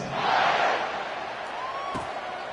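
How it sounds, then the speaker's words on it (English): A stadium crowd buzzes at an American football video game, a broad, steady roar that swells early and then holds at a constant level. "this crowd is buzzing after that last score"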